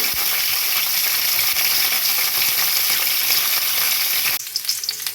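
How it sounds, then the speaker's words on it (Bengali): Cauliflower frying slowly in oil in a pan, a loud steady sizzle that continues for several seconds, then drops abruptly to a quieter crackle with a few light clinks. "ফুলকপিটি আমি আস্তে আস্তে ভেজে নিচ্ছি"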